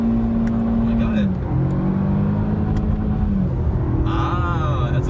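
A Jaguar XE 30T's engine drones and climbs in pitch under acceleration, with smooth gear changes on an automatic gearbox, heard from inside the car while people talk over it.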